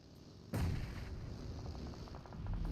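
Grenade blast in the PUBG Mobile battle royale game, one sudden heavy boom followed by a rumbling tail and faint rapid pops under a steady game background.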